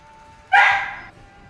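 A single dog bark from the video game Thronebreaker: The Witcher Tales, one short sharp yelp standing alone over a quiet background.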